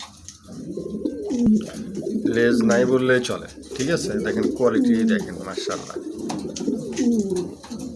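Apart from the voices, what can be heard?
pair of pigeons cooing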